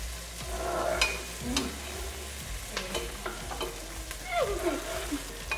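A spoon stirs tomato bisque in a pot, giving soft irregular scraping and sloshing strokes close by, with a faint sizzle underneath and no talking.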